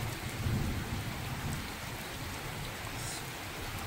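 A thunderstorm brings steady heavy rain hissing on surfaces, with a low rumble of thunder swelling early on and then fading under the continuous downpour, with no voices.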